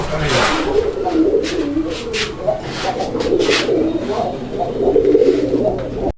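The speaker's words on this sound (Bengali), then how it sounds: "এই যে নটটা ডাকাডাকি করতেছে" A pair of Golla pigeons coo repeatedly in a close, continuous back-and-forth, with low murmuring sounds and a steady background hum throughout.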